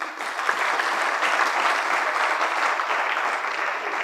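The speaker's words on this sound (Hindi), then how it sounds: "ताली हो जाए भाई।" An audience at a career counselling seminar bursts into steady applause, a dense and even roar of many hands clapping together that holds for several seconds with no break.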